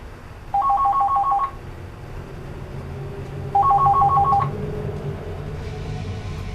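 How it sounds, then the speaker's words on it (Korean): A telephone bell rings twice in short electronic trills, spaced a couple of seconds apart, over a low, muffled background. "공구를 진짜 딱 짚는 순간 전화벨 소리 울리는 거예요."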